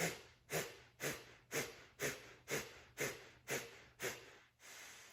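Rapid yogic pranayama pumping breaths, about nine forceful nasal exhalations in an even rhythm roughly every half second, close and clear, ending with a longer breath.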